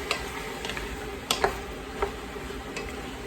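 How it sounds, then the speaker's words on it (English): A spoon clinks and scrapes now and then in a pot of Ayurvedic zucchini soup as it is stirred, giving faint, irregular ticking taps over a quiet kitchen background. "I'm just going to give this a stir."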